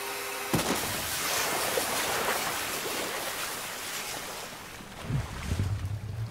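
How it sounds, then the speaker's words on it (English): In the Silent Hill 3 video game, a plugged-in hairdryer is thrown into water, giving a sudden splash that turns into a loud, sustained crackling electrical hiss, then fades into low rumbling thuds. "throw a plugged-in hairdryer into the water."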